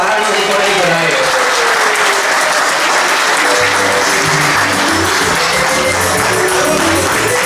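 Sustained audience applause fills a political gathering of the PLRA party in New York, a dense steady wash of clapping with voices murmuring and talking underneath throughout.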